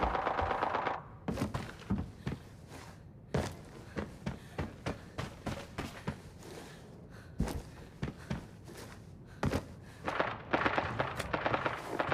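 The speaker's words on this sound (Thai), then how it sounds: "จะมีเสียงบอดยิงกันอยู่ข้างบนนะครับ" Bots trade gunfire upstairs in Arena Breakout, a series of muffled, distant shots in uneven bursts and single cracks, with quieter thumps and movement between them and no talk.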